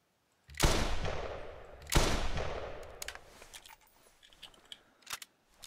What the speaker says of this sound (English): fire the two shots immediately, one after the other